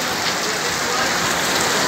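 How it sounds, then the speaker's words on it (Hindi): Heavy rain pours down on a rainy day in Lara Factor, Saudi Arabia, a dense, steady hiss of drops striking surfaces that fills the whole stretch without letting up. "बहुत बारिश हो रहा है बहुत तेज हो रहा है"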